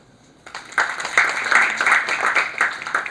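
Audience at a South Gujarat Chamber of Commerce event breaking into applause after a short quiet moment, a sustained burst of hand clapping from a moderately sized crowd, fairly close and steady.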